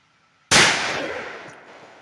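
A single loud .45 ACP shot from a Glock 30 Gen 5 pistol at an outdoor range, a sharp crack after silence followed by a long fading echo.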